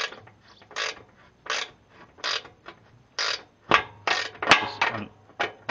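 A ratcheting box end wrench loosens a bolt in a run of short, close clicking bursts about every half second to second, each a quick rattle of pawl clicks, with no talk.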